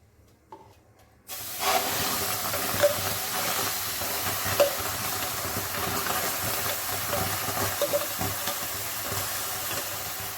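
Tomato puree, onion and soya chunks hit a hot pan for an oil-free soya chunk sabzi, setting off a sudden loud, steady sizzling hiss that carries on for several seconds with faint stirring and no talk.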